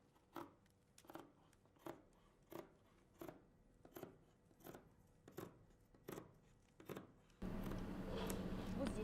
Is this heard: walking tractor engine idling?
no